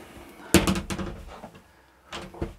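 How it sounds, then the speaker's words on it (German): A toilet door in an LMC Style 493 K camper swings shut with a single firm knock and rattle, followed by softer handling clicks a moment later, heard up close in a small quiet room. "da mache ich mal die Tür zu"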